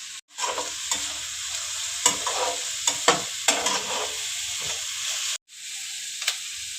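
Garlic goes into browning onions in a hot pan, bringing a loud, steady sizzle broken by sharp scrapes of stirring and one short pause.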